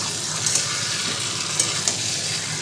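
Country chicken sautéing in a pan, giving a steady close sizzle with a few light scrapes of stirring, no voices.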